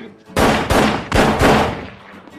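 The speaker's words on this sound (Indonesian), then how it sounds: "Jack kemudian masuk kembali ke dalam rumah dan menembak Kenneth" Four loud, sharp gunshots in quick succession, each with a booming tail, fired close by with no talk between them.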